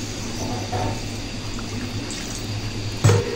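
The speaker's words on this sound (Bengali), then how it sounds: "পরিমাণ মতো পানি যোগ করে নেব" Water is poured into a pot of taki fish curry with data stalks and potatoes, a soft steady pouring and trickling under a low hum, ending in a brief louder splash or clatter near the close.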